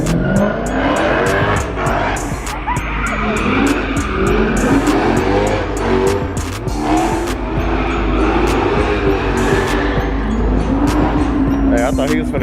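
A car driven flat out at a car meet, its engine revving hard with rising and falling pitch and tires squealing, loud and close, while people talk and shout nearby throughout.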